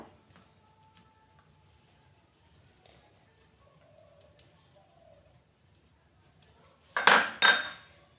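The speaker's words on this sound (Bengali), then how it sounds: "এবার ময়দা গোলমরিচ গুঁড়ো নুন চিনি ভালো করে পনির গাজরের মধ্যে মিশিয়ে নিয়ে" A spoon mixes flour, paneer and grated carrot in a bowl, heard as a short burst of close metallic clinks and scraping near the end after long near-silence with a few faint ticks.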